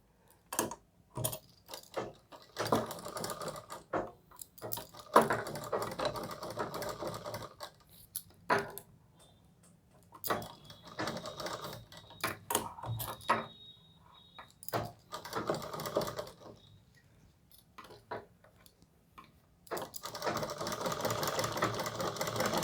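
An electric sewing machine stitches a round collar on a suit, bursts of rapid mechanical clatter starting and stopping repeatedly with quiet pauses between, close and alone.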